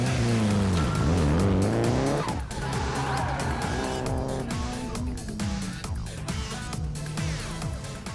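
A race car on a tire test, fitted with new suspension, squeals its tires through sustained skids with the engine revving and shifting pitch, loud and continuous throughout.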